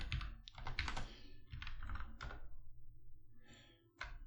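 Code being typed on a computer keyboard, with irregular bursts of close key clicks and thumps that pause briefly and then resume, alone with no voices.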